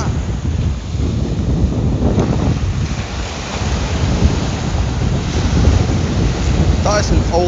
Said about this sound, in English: listening in to these waves